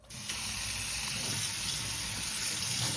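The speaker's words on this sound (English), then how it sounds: "So we're gonna run the cold water over it until it cool" Cold tap water pouring over cooked macaroni in a kitchen sink, a steady, close hiss and splash that starts sharply and then runs evenly, with no voices.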